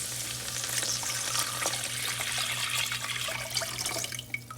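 Water hits a hot pot with a steady hissing sizzle and bubbling, continuous for several seconds, close up, with a low hum underneath.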